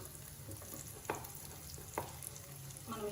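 Street-style spicy scrambled egg frying in a pan, a continuous close sizzle with occasional scraping stirs of a utensil, no talk.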